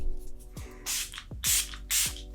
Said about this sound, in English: I'm gonna spray my face with a little bit of Catrice Prime and Fine